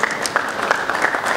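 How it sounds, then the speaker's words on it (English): Applause from the audience at a Nigerian sports betting summit, brisk close clapping from a crowd that holds steady through the short burst. "Round of applause."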